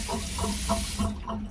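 Gray water tank pump in a 2025 Winnebago Ekko RV gurgling and sucking water, a steady close wet gurgle with rhythmic pulses running alone for a second before trailing off.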